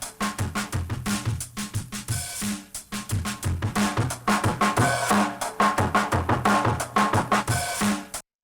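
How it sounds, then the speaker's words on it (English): Dense, gritty distorted granular effect built from rapid choppy grains, pulsing unevenly and loudly throughout before cutting off abruptly at the end. "you can kind of continue to shape the sound after the distortion"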